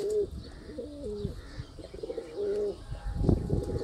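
Several pigeons coo close by in repeated soft, rolling phrases, overlapping one another with brief pauses, loud against a quiet background with no talk.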